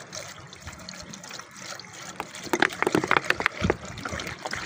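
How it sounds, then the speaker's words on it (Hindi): Water is poured into a household container, a steady trickle that grows into splashy, gurgling pours. Faint background noise sits underneath. "और इसमें डालते हैं जी पानी।"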